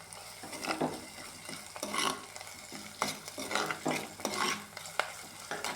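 Curry leaves fry in hot oil for a mullet fish curry, a soft crackling sizzle with repeated scraping stirs against the pan coming in uneven bursts, close by and fairly quiet.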